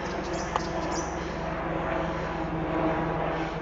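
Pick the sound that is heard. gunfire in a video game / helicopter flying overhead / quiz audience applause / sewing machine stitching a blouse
helicopter flying overhead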